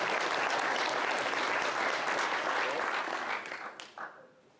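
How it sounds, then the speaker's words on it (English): Steady, full applause from a forum audience for mayoral candidates, a dense wash of many hands clapping that holds for several seconds, then thins and tapers off near the end. "I would like to take a moment to applaud each of them for being here."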